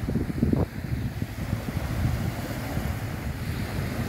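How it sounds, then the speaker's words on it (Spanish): Calm sea waves wash onto the beach at Playa Mamitas in Playa del Carmen on a December morning, a soft continuous surf wash mixed with gusting wind noise on the microphone. "Ya el mar muchísimo más tranquilo que días anteriores"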